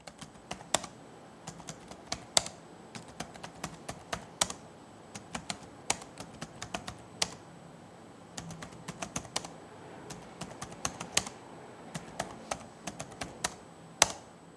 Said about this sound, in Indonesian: berikut ini deh contoh suara feedback dari keyboard laptop ini